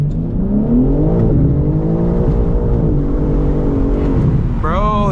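A BMW M3 CS in rear-wheel-drive mode accelerates hard, its engine note rising steadily through the gears, loud and close, with a brief revving burst near the end.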